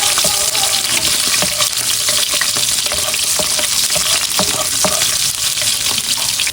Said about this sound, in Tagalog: bali ako po yung magigisa na po ng bawang at sibuyas